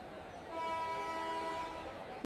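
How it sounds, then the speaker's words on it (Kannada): A train travelling from Mumbai to Bangalore rumbles along with a sustained horn tone sounding over the steady rolling noise, moderately distant, ending with a short sharp knock. "ಮುಂಬೈಯಿಂದ ಬೆಂಗಳೂರಿಗೆ ಟ್ರೈನ್ ಮೂಲಕ ಹೋಗ್ತಾ ಇದ್ದೀನಿ"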